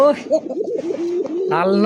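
A pigeon coos close by in a throaty, rolling call, repeated with warbling rises, loud and clear with a voice briefly present.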